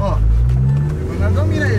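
Rough engine of a Volkswagen Saveiro pickup car running up close and loud, a low droning rumble with uneven popping and sputtering texture, while someone speaks over it.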